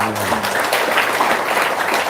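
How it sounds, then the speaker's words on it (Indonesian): An audience claps together in a short, steady burst of applause with a brief voice at the very start, heard at a moderate level. "tepuk tangan dong"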